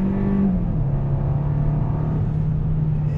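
A 2020 Hyundai Sonata with the 1.6 engine accelerates steadily, its engine drone rising then dropping smoothly at a shift and holding a steady hum, heard from inside the car.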